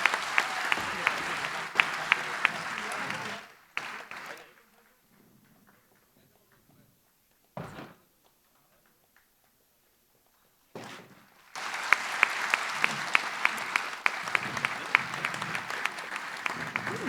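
An audience at a felicitation ceremony for students selected in the JEE and NEET exams gives loud, sustained clapping in two long bursts separated by a near-silent pause with a few brief sounds.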